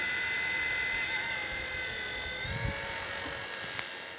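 A V911 toy helicopter, repaired after a yard-sale find, flies with a steady high-pitched electric motor whine and rotor buzz that holds throughout, fairly close and continuous, with faint background noise beneath.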